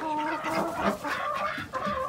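Chickens cluck continuously inside a winter coop, a dense, close flock of overlapping chatter and short squawks with no speech, lasting about two seconds.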